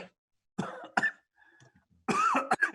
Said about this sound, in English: even the topic got me coughing here